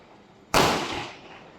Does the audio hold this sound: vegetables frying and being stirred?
no